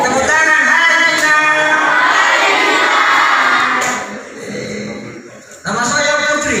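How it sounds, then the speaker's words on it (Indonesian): Children in a school Scout (Pramuka) session at SMPN 1 Ulaweng raise a loud, dense burst of clapping and shouting that fades midway, then surges again near the end. "Tepuk tangan, hai Gina."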